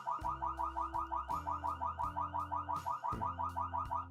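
A CP Plus E31Q Wi-Fi CCTV camera sounds its built-in siren, a loud electronic wail pulsing in fast, steady cycles with no pauses, heard alone.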